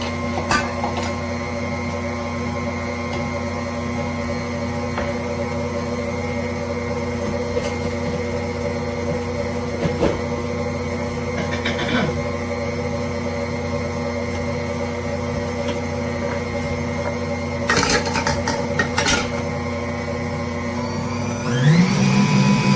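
An electric mixer blending pumpkin into a bread batter of craisins and pecans, a steady whirring motor hum held near and constant, with faint clinks and a brief pitch rise near the end.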